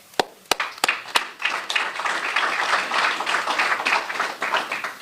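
Applause at a police department press conference on annual public safety: a few sharp, separate claps open, then the audience joins in steady, dense clapping that holds at moderate volume.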